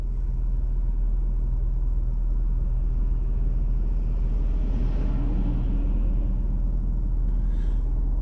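Traffic rumbles past on a road at a DMV road test site on Vredenburgh Avenue in Yonkers, New York: steady low engine drone with cars passing nearby, a swell around the middle, no talk.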